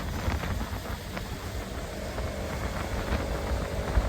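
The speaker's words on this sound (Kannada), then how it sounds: "ಗಾಳಿ ಸರಿಯಾಗಿ ಹೊಡಿತಿದೆ ಫ್ರೆಂಡ್ಸ್" Strong wind buffets the microphone on a Bengaluru road, a constant low rumbling roar with gusty fluctuations throughout and no voices.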